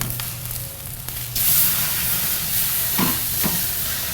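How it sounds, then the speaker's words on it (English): Pork pieces sear on a hot Kamado Joe grill with a steady, close sizzling hiss that grows louder partway through, and a few brief clatters are heard. "So we're just going to put these pieces of pork on and sear them"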